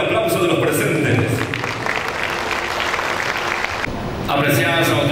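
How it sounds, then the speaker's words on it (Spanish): Applause from those present at the official opening ceremony of an agricultural trade show, steady clapping filling the room for several seconds under a voice, then dropping away briefly before resuming near the end. "Fuerte el aplauso de los presentes."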